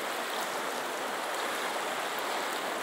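Fast-flowing, swollen water of the Acaraú river in Sobral during the rainy season: a dense, steady, loud rushing roar with no let-up and no voices.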